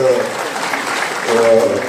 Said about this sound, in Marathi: एकदा टाळ्या वाजवून आपण सगळ्यांनीच